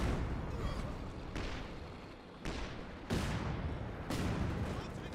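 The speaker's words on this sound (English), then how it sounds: "Panzerwerfer coming in" Panzerwerfer rocket artillery barrage in Company of Heroes 2, a run of heavy booming impacts arriving one after another at roughly one-second intervals, each with a long rumbling decay, loud and dense with faint voices in the background.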